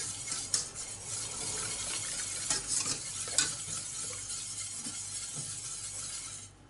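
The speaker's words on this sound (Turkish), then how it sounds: "bir yemek kaşığı dolusu un. Çırpıcıyla karıştırın." Flour being whisked into a mixture of egg and yogurt for soup, with a steady scraping, swishing whisk against the bowl and a few sharper clinks, close and continuous.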